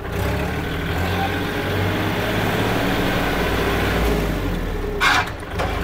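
A Kubota L4018SP tractor engine runs at a steady, loud diesel drone while gears are shifted, with a brief hiss and clunk near the end.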